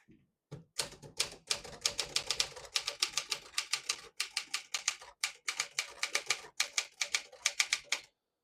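Keys strike on a 1957 Smith-Corona Silent-Super portable typewriter in a quick, steady run of crisp, close clacks, around forty in all, with brief pauses between bursts.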